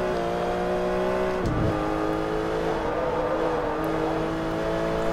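An R3-class race car engine in Forza Motorsport 3, heard from the interior cockpit view during a world championship race, holds a loud, steady drone with a brief dip in revs partway through, with no voices.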